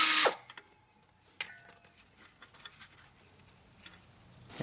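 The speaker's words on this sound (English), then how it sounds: "Remove the 2 caliper slide pin bolts with a 13mm socket." A 13mm socket on a ratchet or power tool loosens the rear brake caliper slide pin bolts on a Chevy Tahoe or Silverado with a GM 10-bolt rear axle: one short loud mechanical burst, then scattered faint clicks and taps.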